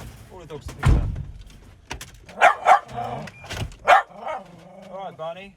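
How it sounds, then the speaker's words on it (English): A dog barks a few times in sharp bursts nearby, mixed with a person talking and some household clatter. "Barney's always barking at Ryla"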